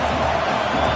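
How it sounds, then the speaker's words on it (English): A stadium crowd at a football game roars in a dense, steady wall of cheering and noise, loud and continuous with no break. "Listen to this crowd just shaking the girders of this place trying to help their defense."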